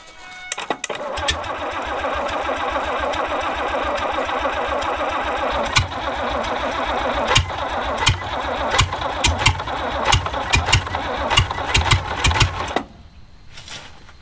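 An abandoned 1950s Rolls Royce engine cranks and catches, then runs loud and close for about twelve seconds with a steady rough chug punctuated by sharp pops and backfire-like cracks before cutting off.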